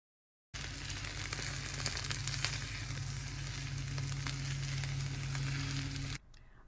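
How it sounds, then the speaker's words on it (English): A big batch of onions caramelizing in a pan on an induction hob at setting 6, giving a loud, steady, close sizzle with fine crackling that runs unbroken for several seconds before cutting off abruptly. "The longer you cook, the more yummy and intense in taste your onions will become."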